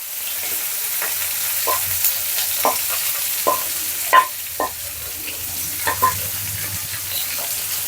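Small onions with curry leaves saute in a pan for Kerala-style ulli thoran, giving a steady close sizzle broken by scattered scrapes and clinks of stirring. No one talks.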